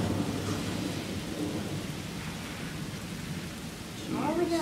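Thunderstorm over a lake, with steady heavy rain and a low rolling thunder rumble that swells near the end, heard from a sheltered spot with faint voices in the background.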